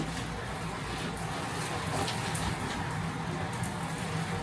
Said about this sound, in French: Et il y a une pluie de malade.